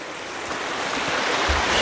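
A small Montana creek runs beside an off-grid cabin, giving a steady, close rushing wash of flowing water that builds slightly over the short stretch, with no voices.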